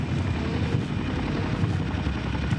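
Boeing CH-47 Chinook military heavy-lift helicopter in flight, a steady broadband rotor roar with low chopping pulses, fairly loud and continuous with no voices.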